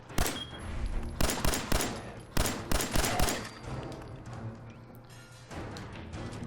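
Gunfire in the video game Fallout 4 comes as a series of loud, sharp shots spaced irregularly over several seconds, fading to quieter background noise with a final burst near the end.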